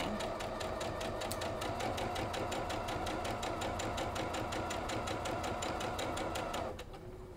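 A sewing machine runs a continuous rapid stitch along a quilt block seam, its even mechanical chatter close and steady before it suddenly stops near the end.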